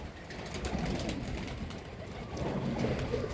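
A loft of breeding pigeons gives off a steady low cooing murmur, continuous and moderately loud, with a busy ambient wash and no clear talk.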